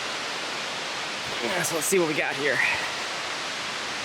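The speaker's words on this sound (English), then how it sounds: "And you can hear the falls in the background." Cooper Brook Falls, a waterfall beside a lean-to shelter on the Appalachian Trail, sends up a steady broadband rush that carries all the way through, and someone speaks briefly over it.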